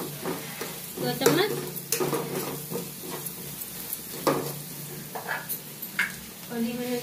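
Spices frying in a pan for a modak filling, with crackling sizzle and repeated spoon stirring and scraping sounds; a voice speaks briefly over the cooking.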